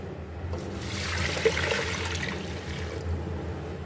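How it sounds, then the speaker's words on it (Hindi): Water pours steadily into a cooking pot of chicken haleem for a few seconds with a rushing, splashing sound, rising then tapering off over a low background hum. "अब इसमें हम पानी डाल लेंगे"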